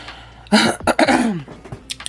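A person with a cold coughs harshly a few times in a quick burst, close up, with a rough throat-clearing quality.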